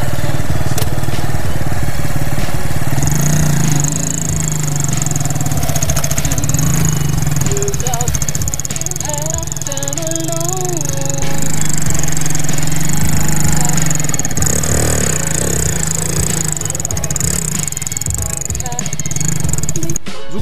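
Motorcycle pulling away in second gear through soft sand, its engine a steady close low drone that lingers at low revs and rises gently as the bike crawls forward.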